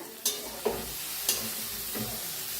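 A spoon scrapes cluster beans around a pan in four distinct strokes, each a sharp scrape over a faint, steady sizzle, close and fairly quiet.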